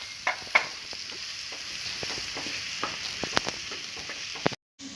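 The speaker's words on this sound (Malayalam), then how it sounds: "ഇത് നല്ലപോലെ ഇളക്കിയെടുക്കുക." A tapioca bonda filling is stirred in a pan, with scraping, clicking strokes at an irregular rhythm over a low sizzle, close and fairly quiet, cutting off abruptly just before the end.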